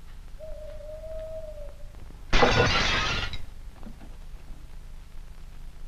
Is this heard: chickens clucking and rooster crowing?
no